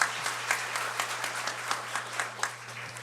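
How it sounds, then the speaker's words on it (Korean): A church congregation claps together during a Sunday service, giving a moderate round of applause with a rhythmic pulse of many hands heard from a short distance, over a low steady hum. "우리 축복의 박수 하도록 하겠습니다"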